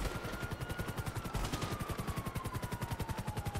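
Gunfire rattles in GTA 5 Online as a rapid, evenly spaced machine-gun burst, loud and continuous under a faint siren tone.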